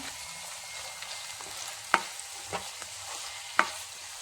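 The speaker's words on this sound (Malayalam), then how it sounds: "ഇതെല്ലാം കൂടി ഒന്നുകൂടി ഇളക്കി കൊടുക്കാം" A soy sauce mixture gets stirred in a hot pan, giving a soft steady sizzle broken by a few sharp scrapes and taps of the utensil against the pan.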